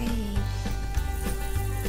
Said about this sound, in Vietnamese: Tiếp đến là mình sẽ cho vào cái chảo mình chiên liền.